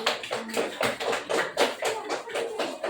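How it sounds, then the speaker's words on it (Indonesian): A school class at a vocational high school claps in a quick, rhythmic series of sharp, fairly close claps, fairly loud, with no talking over them. "Ya, bagus ya tepuk tangan."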